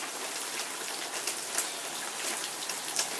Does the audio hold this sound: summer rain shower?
yes